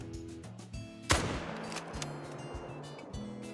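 A single loud, sharp rifle shot aimed at a red deer in theHunter: Call of the Wild rings out, then trails off into a long fading echo over a steady low ambient hum.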